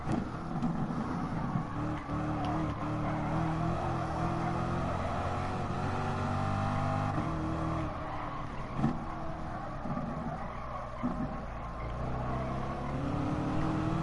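Racing car engines in Gran Turismo Sport during an online FIA race, droning steadily with shifting revs as cars run close together. The drone stays loud and continuous with no pauses.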